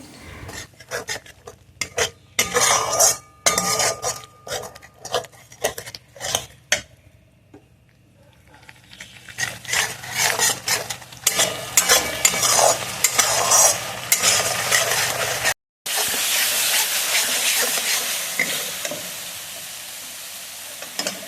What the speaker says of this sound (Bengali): এখন আমি এই যে গুঁড়ো মশলাটা ইউজ করলাম এরপর ভালোভাবে কষিয়ে নিতে হবে যতক্ষণ না তেল ছাড়ছে